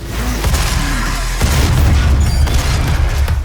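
Heavy shotgun blast in a demon-fighting first-person shooter, a loud booming low-end burst that swells midway and rumbles on through the rest, no talk over it.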